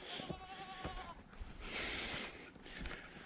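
Goats bleat in a rural setting, several wavering calls early on followed by quieter rustling and movement sounds, faint and somewhat distant.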